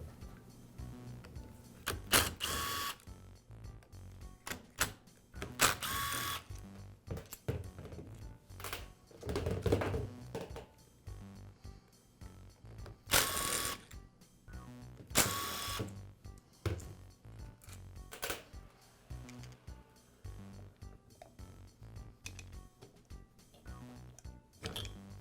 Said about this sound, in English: Next, I'll remove the gearbox and armature assembly from the rest of the motor.